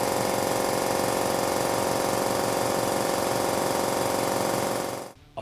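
An old piston-style air compressor hammers away loudly and steadily, its rapid pulsing clatter filling the space for about five seconds before it cuts off abruptly near the end.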